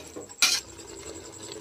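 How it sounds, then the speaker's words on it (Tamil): Metal utensil clanks sharply once against a cooking pot while masala is being mixed into mutton kulambu, followed by soft scraping and stirring noises, close and fairly quiet. "மசாலாலாம் போட்டு கலக்கி கொடுங்க."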